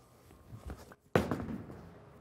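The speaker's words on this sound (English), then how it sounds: "Got a piece of the head pin though." A Track Tundra Fire bowling ball strikes the pins with a single sharp clattering crash that tails off quickly, preceded by faint rolling and alley noise.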